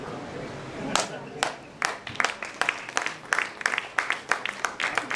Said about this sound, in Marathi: टाळ्या वाढू देत